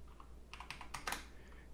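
Quick, faint keystrokes on a computer keyboard come in a short burst of about a dozen soft clicks over a low background hum, with no talking.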